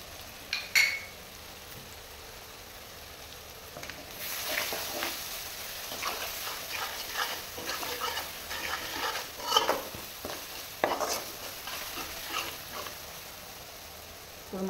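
Spicy masala noodles frying in a hot pan with a heavy hand of spice masala, a spatula scraping and stirring steadily through a continuous sizzle at close range, with no talk.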